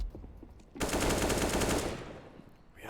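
An AWP sniper rifle fires in Counter-Strike: a loud, broad blast of gunfire that swells and holds for about a second before fading, with no talk over it.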